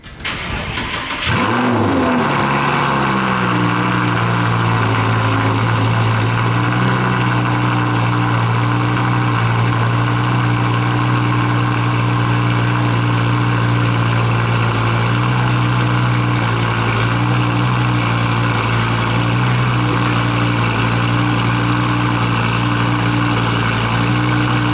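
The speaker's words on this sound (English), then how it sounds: "after you put an exhaust on this thing, she roars" A first-generation Audi R8 engine with aftermarket exhaust starts with a sharp burst, then settles into a deep, loud, rumbling idle that holds steady and throaty for a long stretch.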